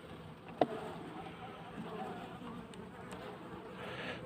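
Calm Caucasian F1 honeybees humming softly around an open hive during a January inspection in Ağva, Istanbul, a faint steady buzz with one sharp tap near the start.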